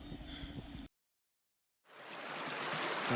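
Oak Creek near McCarthy, Alaska flows as a steady broadband rush, first mixed with a low rumble, then briefly cut to silence before the water returns and swells louder.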